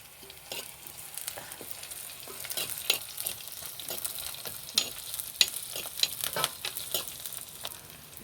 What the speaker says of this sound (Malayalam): അതിൻ്റെ മൂത്ത് വന്നിട്ട് കറിയപ്പല ഇടാം